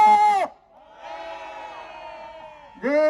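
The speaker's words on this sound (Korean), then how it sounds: "우리 다시 한번 함성 한번 질러봤으면 좋겠습니다." A crowd of street vendors at a 2021 rally in the Honam region of Korea raises a sustained collective shout. A loud single voice leads in before the shout and cuts in again at the end.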